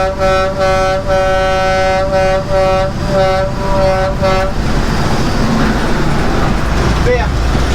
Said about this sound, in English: I got a bigger horn than the train.